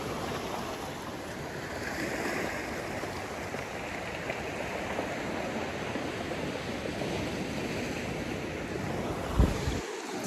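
Ocean waves wash and hiss steadily in a small rocky cove near Ensenada, Mexico, with a broad continuous surf roar, some wind buffeting, and a brief louder thump near the end.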